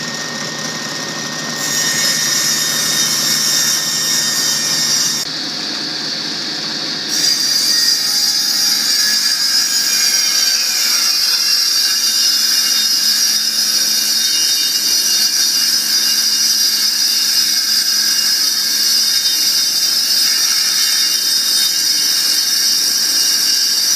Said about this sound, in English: we'll cut the thing again at 60 more inches for the length